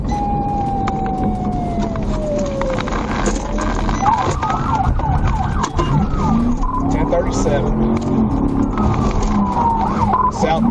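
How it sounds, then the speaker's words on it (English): A loud police siren wails and yelps continuously during a high-speed chase, sweeping up and down in pitch over steady road and engine noise. "Once emergency lights and sirens were activated"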